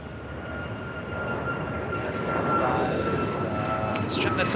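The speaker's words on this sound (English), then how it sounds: "It's China Southern Cargo Flight 2537 coming from Anchorage, 777 and freighter." A China Southern Cargo Boeing 777 freighter arriving from Anchorage lands at LAX, its steady engine roar rising and swelling as it nears, with a faint high whine and a voice talking briefly.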